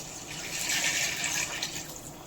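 A pot of water is poured into a plain biryani as it cooks, a short, splashing gush of liquid that swells in the middle and then eases off. The pour is close and clear, with no one talking.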